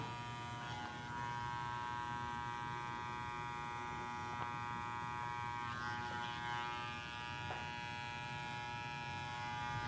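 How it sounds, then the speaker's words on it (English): A modified hair clipper with the front of its body cut off hums in a steady electric buzz while trimming hair around the ear, faint and even, with small changes in tone as it cuts. "this clipper modified, where I cut the front of the body off, comes in clutch, like working around the ear"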